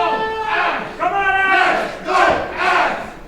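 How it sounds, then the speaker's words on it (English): A wrestling crowd roars and chants in rhythmic swells of massed voices, loud and close, rising and falling in waves of cheering for a favored wrestler. "The crowd's still very much behind Abbs."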